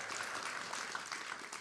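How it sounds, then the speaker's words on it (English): An audience at a talk bursts into steady, dense applause, heard from a moderate distance and fairly quiet. "You can applaud that."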